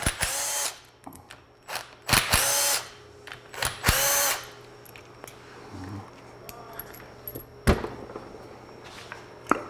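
Short bursts of a whirring power tool spinning up and stopping several times as it removes 8 mm and 10 mm bolts on a Polaris RZR Pro R engine, with clinks of metal parts and handling noises in between.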